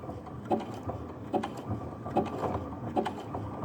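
A sewing machine with a special foot stitches on a button, producing a steady mechanical chugging with regular thumps repeating about every 0.8 seconds, close and moderately loud, with no voices.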